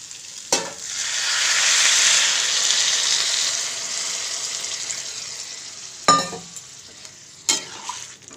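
Potato vegetable curry with tomato and green chili sizzling steadily in a pan, a loud continuous fry with a few sharp clatters from stirring near the start and end.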